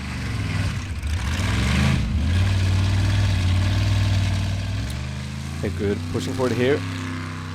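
An off-road race car at the Formula Offroad World Cup runs with an unhealthy, rough-sounding engine, a steady labored drone under a commentator's voice, ending in a few sputtering revs.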